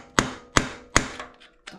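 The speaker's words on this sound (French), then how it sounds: "Faut y aller au burin." A chisel is hammered to remove the exhaust baffle on an Indian Scout motorcycle: three evenly spaced sharp metallic strikes, followed by a few lighter taps.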